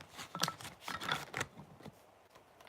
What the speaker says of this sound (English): I'm gonna do one more shuffle, and then it's all about you.